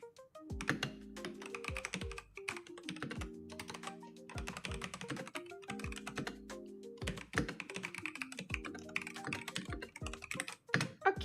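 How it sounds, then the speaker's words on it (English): Rapid computer keyboard typing, close and fairly quiet, with steady clusters of clicks and key thunks over soft background music, without talk. "If anyone wanted to hear typing"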